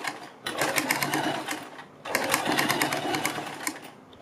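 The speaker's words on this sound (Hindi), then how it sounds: "एक सिलाई हम इस पट्टी के किनारे किनारे पर लगा देंगे दोनों साइड।" A sewing machine stitches along the edge of a fabric strip for a kurti or suit neckline, running in two loud, close bursts of rapid stitching separated by a short pause.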